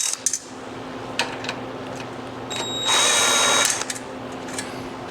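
A welder lays a short tack weld on the tail light mount bracket of a 1974 Harley-Davidson XLCH Ironhead chopper: a brief crackling buzz of under a second, set between scattered clinks and taps from the workpiece.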